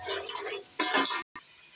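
Blended masala is fried and stirred in a pot: two quick bursts of spoon scraping and sizzling, close up, split by a brief silent gap, with no talking.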